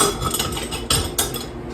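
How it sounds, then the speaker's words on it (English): Metal kitchen utensils clatter and knock together as a spatula is pulled out, a busy jangle of loose clinks with two sharper knocks near the end, close and fairly loud. "Oh, gotta get out my spatula."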